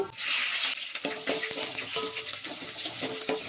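Chopped onions dropped into hot oil with fresh curry leaves, giving a steady, close sizzle and crackle with occasional stirring scrapes in a pan, no talking.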